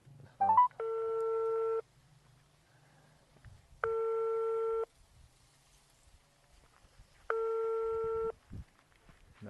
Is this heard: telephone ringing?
yes